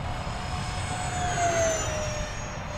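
An E-flite A-10 Thunderbolt II radio-controlled jet with twin 64mm electric ducted fans flies over a grass field, giving a steady whooshing whine that swells slightly as it passes, with no talk.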